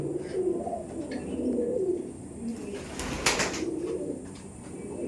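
Imported Giribaj high-flyer pigeons cooing in soft, low repeated calls, with a brief burst of wing flapping or rustling midway, heard at close range against a steady outdoor background.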